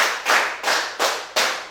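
Classroom group clapping during a teacher-led counting game, four or five quick rounds of many hands striking together, each burst sharp then fading, spaced roughly a third of a second apart at moderate volume without talk.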